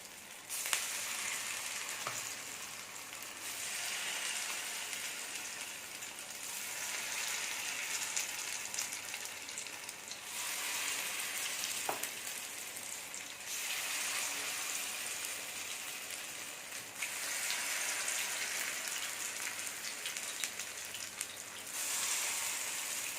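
Rava kara paniyaram batter sizzling in hot oil in a paniyaram pan, a dense crackling sizzle swelling in waves as batter goes into each cavity, steady and close with no talk.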